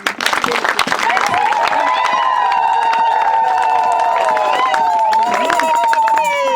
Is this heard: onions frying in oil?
no